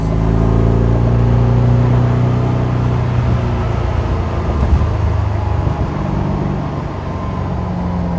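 A 1999 Shelby Series 1 sports car engine drones steadily from inside the car while driving, a loud, rich low hum with shifting harmonic tones as revs rise and settle.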